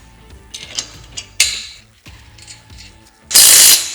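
A ratchet tightens a bolt and lock nut on a truck rack, giving a few quick clicking bursts close up, ending in a louder sustained stretch of ratcheting.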